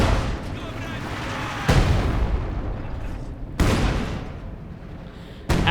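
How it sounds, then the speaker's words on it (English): Light artillery barrage from a field gun in Company of Heroes 2, with three loud, sharp booming impacts spaced about two seconds apart over a continuous rumbling battlefield din. "And a light artillery barrage there from the field gun as well"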